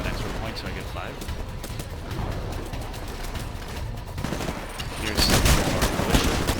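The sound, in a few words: gunfire from the player's gun in Titanfall video game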